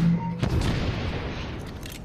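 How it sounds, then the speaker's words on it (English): A guillotine gun fired as a mortar in Assassin's Creed Unity: a sharp launch thump followed by a rolling boom and crackling debris that fades out, with no talking. "Use the guillotine gun as a mortar, hold, then fire."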